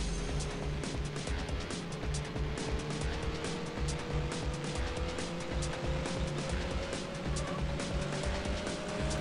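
A race car engine in Need For Speed High Stakes drones loudly and continuously, its pitch climbing slowly as the car accelerates, with steady rumbling noise throughout.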